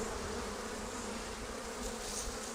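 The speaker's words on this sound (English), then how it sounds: "And put a lot of bees in the air." Honeybees swarm loudly after a Flow Hive brood frame is shaken, making a dense, steady buzz up close with no talking.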